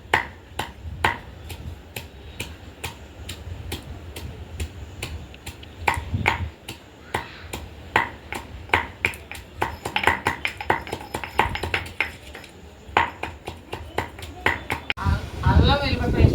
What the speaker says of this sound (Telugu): అల్లం వెల్లిపాయ పేస్ట్ అంటే చూడండి దంచేస్తాను